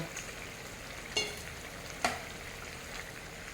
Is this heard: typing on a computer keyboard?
no